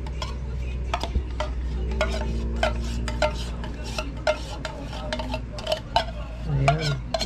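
Cream and condensed milk stirred together in a casserole, a utensil clinking and scraping against the pot in an irregular run of close, sharp taps over a low steady background hum.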